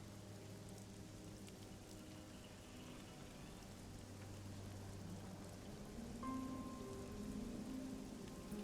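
Steady rain patters on a lean-to shelter as tabletop game ambience, a continuous soft wash of drops with a low rumble underneath and no voices.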